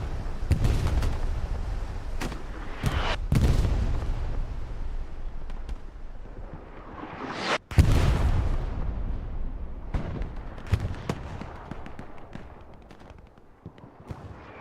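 Bomb-run explosions in Hell Let Loose, a series of loud, heavy booming blasts with rumbling tails, one especially sharp burst near the middle, with no talk over them.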